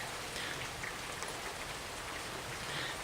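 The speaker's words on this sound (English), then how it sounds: "On this fine Saturday morning, rainy morning, thundering and some lightning." Steady rain falls on a thundery Saturday morning in Carrollton, Ohio, a dense, even hiss of drops on surfaces with no distinct thunder and no voices.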